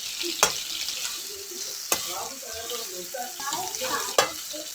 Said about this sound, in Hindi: प्याज को ऐड करेंगे, प्याज को हल्का ब्राउन करेंगे